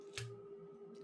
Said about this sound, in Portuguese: Cortei.